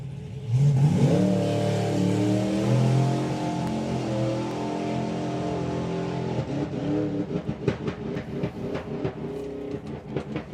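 A drag racing car engine at a drag strip runs roughly, its loud rev stumbling into uneven, stuttering bursts that grow choppier toward the end, heard alone without talk.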